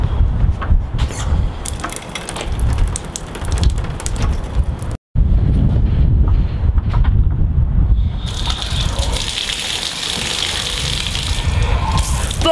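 Shower water running in a steady, loud rushing gush, close and continuous apart from a brief cut midway, with the spray turning hissier toward the end.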